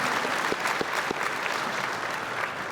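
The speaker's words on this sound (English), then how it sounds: "Round of applause for Adam Strange, classic Silver Age character." Steady audience applause at a comic convention panel for an Adam Strange cosplayer, dense clapping throughout with a few sharper claps standing out.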